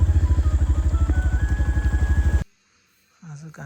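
A motorcycle engine runs close by with a steady, rapid thumping idle for a couple of seconds, then cuts out abruptly, leaving near silence before a voice speaks.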